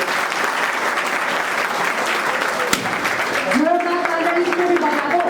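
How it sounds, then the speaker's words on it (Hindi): An audience applauds loudly and steadily for a third-place prize winner at an academy mega test event, dense continuous clapping with a voice speaking over it near the end. "सभी लोग एक बार में जोरदार तालियां बजाएं"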